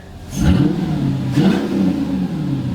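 Mercedes C55 AMG V8 engine revving hard as the throttle is punched, two sharp rising blips over a steady loud idle, close up and with no talking.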